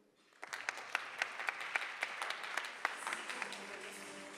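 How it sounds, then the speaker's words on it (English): A modest burst of clapping from the audience at a youth business awards ceremony starts after a brief quiet. A few distinct claps stand out over thin, faint applause that fades out toward the end. "A huge round of applause, ladies and gentlemen."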